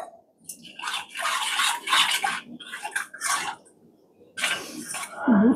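Water poured into a tea pot while making tea, in bursts of splashing and trickling with short pauses, ending in a brief pot clink, close and fairly loud with no talk.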